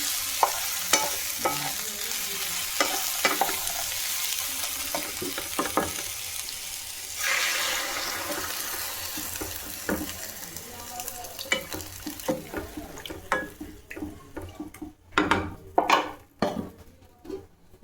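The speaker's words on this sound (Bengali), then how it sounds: "শুক্তোটা দেখুন খুব ভালোভাবে ফুটতে শুরু করে দিয়েছে" Shukto, a Bengali vegetable curry, simmers and sizzles in a pot while a ladle stirs and scrapes it, with soft bubbling under repeated clinks and clatters of utensils that grow sharper toward the end.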